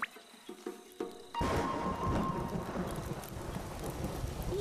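Cartoon forest scene where a few isolated drips give way to a sudden steady downpour, dense rain hissing loudly and continuously.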